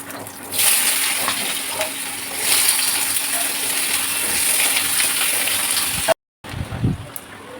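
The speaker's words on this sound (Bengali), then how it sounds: "এবার আমি আলুটা ভেজে নেব।" Potatoes sizzle in hot mustard oil with cumin and bay leaf in a pan, a steady close hiss that briefly cuts out and then resumes with stirring clatter.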